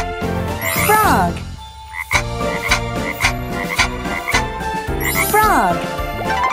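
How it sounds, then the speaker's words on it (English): A cartoon frog croaks several times over bright, jingly children's music, the croaks loud and close and repeating in a bouncy rhythm. "Frog."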